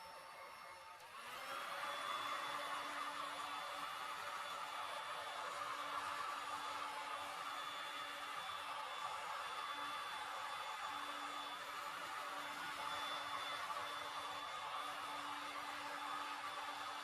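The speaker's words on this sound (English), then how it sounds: "I might just give it a little heat gun as well. Here we go, just on a low setting." A heat gun switches on at low setting over resin, its fan rising into a steady airy whoosh with a faint tonal hum, continuing close and unbroken with no talk.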